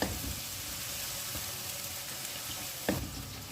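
Browned onions with ginger-garlic paste sizzle quietly in a pan for chicken achari gosht, a soft continuous hiss broken by a stirring scrape near the end.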